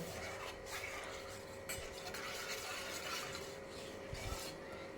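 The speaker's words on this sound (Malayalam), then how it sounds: "കൈ എടുക്കാതെ ഇങ്ങനെ ഇളക്കണം, ചിലപ്പോൾ അടിക്ക് പിടിച്ചാലോ" Hot milk is stirred in a pot on a stove, a faint continuous scraping and rubbing of the spoon against the pan under a steady background hum, with no talk.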